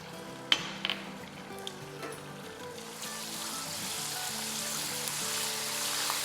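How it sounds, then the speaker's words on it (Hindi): Ginger and garlic paste sautéing in a pan with a steady sizzle that starts soft, grows broader and louder, and stays even. A few clinks of a utensil come early. "इसको बस 30 सेकेंड ही सौटे करेंगे।"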